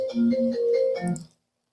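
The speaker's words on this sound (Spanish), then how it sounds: "empezó a sonar el teléfono y estaba conectado con un Bluetooth ahí" A phone ringtone plays through a Bluetooth connection: a short melodic electronic tune of several bright notes, loud and clear, ending abruptly with silence after.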